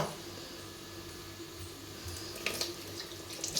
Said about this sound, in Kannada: ಇದನ್ನು ಕ್ಲೀನಾಗಿ ತೊಳಿಬೇಕು